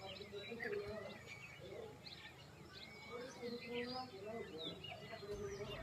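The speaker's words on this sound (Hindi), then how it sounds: "पंछी पूरे चूं चूं कर रहे थे" Morning birds chirp and tweet softly in a village near Nahan in Himachal, scattered calls overlapping faintly against a quiet outdoor background.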